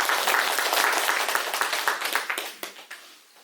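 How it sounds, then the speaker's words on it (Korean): Church congregation applauding together at the close of a Sunday service prayer, a dense burst of many hands clapping that thins out into scattered claps and fades over a few seconds. "우리 한 번 더 박수하겠습니다"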